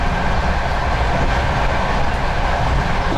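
A passenger train carriage rolls along rails on a four-hour ride to Fergana in Uzbekistan, a loud, steady rumble of wheels and interior hum with no talking.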